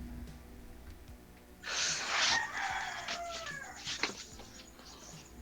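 A neighbor's rooster crows once, loud and fairly close, with other chickens and faint background noise around it.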